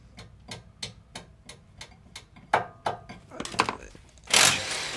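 Sharp metallic taps on the bottom ball joint of a Hyundai ix35 CRDi, struck upward to free it: about eight evenly spaced close knocks, then a quicker flurry of hits and a louder rattling clatter as it loosens.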